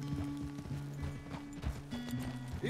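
Horse hooves clip-clop at a steady gallop in the Red Dead Redemption 2 video game, a close, rhythmic, continuous pounding over low background sound.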